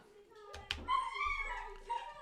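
Pet dog excitedly greeting its owner arriving home, with a couple of sharp yips followed by drawn-out whining, whimpering vocalizations, fairly close and lively.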